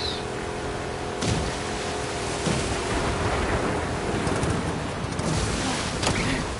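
Ocean surf in The Last of Us Part II, heard while a weak boat motor heads out to open water: a steady broadband wash of waves and wind, with a few louder swells rolling in, and no talking over it.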